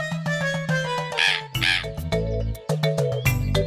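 A parrot squawks in a rapid, repeated series of harsh, shrill calls, loud and close, with a few brief noisy bursts mixed in and no talking.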